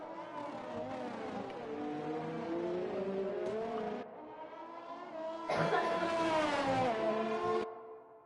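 A Red Bull Formula 1 car in a racing video game, engine rising in pitch as it pulls through the gears on a lap at Hungary. It sounds steady and loud, with a brief dip before it surges again near the end.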